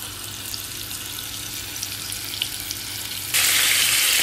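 Chicken breast fries in a pan with a steady, close sizzle and light crackling, rising abruptly to a louder, brighter hiss near the end.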